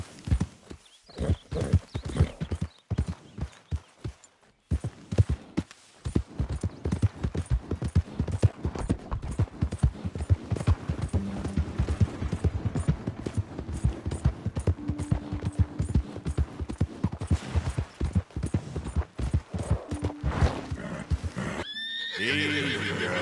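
Horse hooves clip-clop at a gallop in the Red Dead Redemption 2 video game, a steady close rhythm with whinnies and neighs breaking in, loud throughout with a brief pause early on.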